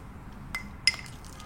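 Two light glassy clinks from a glass container being handled as something is transferred into it to solidify; the taps are quick, separate and fairly close, over a quiet background.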